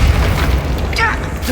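Spell explosions boom in the video game Hogwarts Legacy, a dense, loud, rumbling burst that fills the whole moment with a continuous low thud and crackle.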